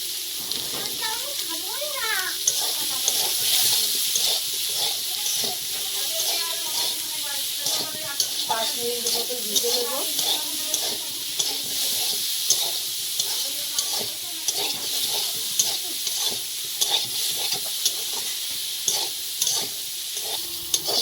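Jackfruit and shrimp stir-fry in a pan with turmeric and salt added, sizzling steadily as a spatula scrapes and stirs throughout; the frying hiss stays loud and continuous, with frequent clinks and scrapes.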